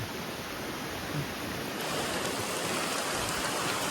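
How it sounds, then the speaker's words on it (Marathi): Steady, broad rushing of a fast-flowing stream swollen by heavy Konkan rain, unbroken and even throughout, with no voices. "जबरदस्त प्रवाहाने जात आहे आणि इकडून हा प्रवाह येतो"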